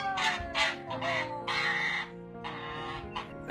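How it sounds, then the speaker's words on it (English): A goose honks loudly in harsh, repeated bursts as it charges at a woman, a reunion after a long separation from its owner; several raspy calls come close together, with brief gaps between them. "Looks like you're being attacked by an angry goose."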